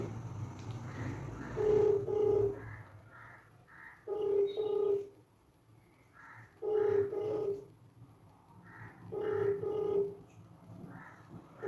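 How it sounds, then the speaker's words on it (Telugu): A faint telephone ringing tone repeats in short paired bursts at a steady rhythm, with quiet hum between rings. "మనం ఈరోజు ఒక ఫోన్ కాల్ మాట్లాడదాం"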